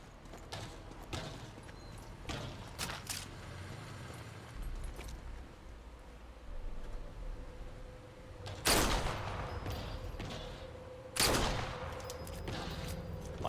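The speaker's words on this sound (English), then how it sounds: "Now I could just go in there with my light machine gun." Bursts of light machine gun fire in the Sniper Elite 4 video game, two loud sharp volleys standing out over a busy game background of clattering and rumbling, with scattered quieter shots earlier.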